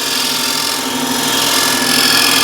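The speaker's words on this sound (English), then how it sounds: "I'll slightly undercut that with a skew." A skew chisel undercutting wood on a spinning lathe while turning a container, a continuous loud motor hum and whirring cut with no breaks, close up, no voices.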